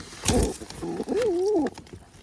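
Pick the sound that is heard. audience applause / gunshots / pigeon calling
pigeon calling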